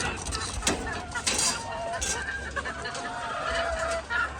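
White leghorn hens cluck and squawk at close range on a poultry farm, with short scattered calls over a constant background hum. A voice speaks at moments among the birds.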